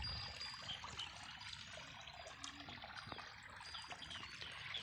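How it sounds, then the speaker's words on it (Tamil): Water flows through a green rice paddy field in a faint, continuous trickle and babble, quiet and unbroken, with no voices. "அதுதான் சார் தண்ணி போயின்னு இருக்குது சார்"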